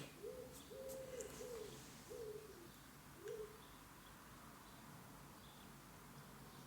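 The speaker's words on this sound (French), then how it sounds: "C'est les petits pigeons, les petites tourterelles que vous entendez." Soft, low cooing calls from pigeons and turtle doves, a few short phrases in the first few seconds, then a lone coo, over faint background hiss.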